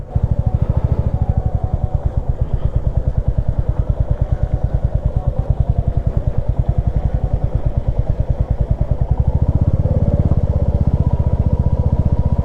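A motorcycle engine on a rough mountain road between Gangtok and Lachung chugs loudly and close, with a fast, even pulse held steadily throughout and a slight rise in throttle toward the end.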